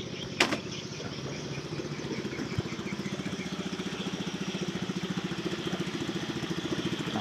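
A 6 PK engine on a six-metre boat idles with a steady, rapid, low chugging pulse. It sounds moderately distant and fairly quiet, with a brief knock near the start.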